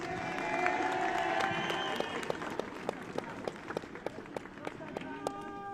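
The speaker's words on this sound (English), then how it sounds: "Round of applause for our individual award winners." A crowd applauds award winners at a youth soccer academy cup final, clapping loudly at first. It thins into a few scattered, distinct claps, and a voice speaks over the opening moments.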